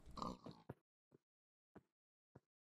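A Minecraft pig gives a quick series of grunting oinks: one louder burst, then three short snorts spaced evenly, faint and close.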